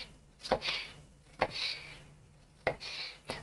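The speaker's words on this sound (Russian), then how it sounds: "пришла очередь помидора. Его нарезаю таким средним кубиком." Three sharp knife chops cutting a tomato into medium cubes on a cutting board, spaced about a second apart, close and crisp with quiet pauses between.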